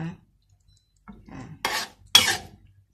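Sweet and sour pork stir-fry scooped onto a plate, with a few close, brief scraping and clinking bursts of a utensil against the dish separated by short pauses.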